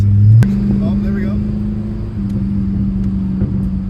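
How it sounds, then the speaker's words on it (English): Corvette engine revving with a blown transmission, a steady loud idle-level drone with a brief rev at the start, the engine note dropping and holding as the car sits in neutral, captured close up. "Alright guys, I think I just blew my transmission."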